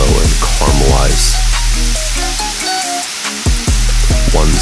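Onions and garlic cook slowly in oil over low heat for a traditional tomato sauce, giving a steady, close sizzle, while a voice and bright tonal music sound over it.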